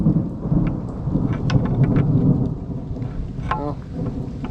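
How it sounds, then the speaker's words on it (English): Deep thunder rumbles through a heavy thunderstorm, with steady rain drumming on surfaces throughout, loud and continuous with a brief sharper crackle near the end. "Oh, and there's the thunder."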